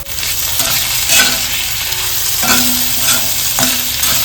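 Onion, tomato and bay leaf sauté loudly in a kadhai at close range, a dense hiss of frying under a few sharp scraping strokes of stirring, no speech.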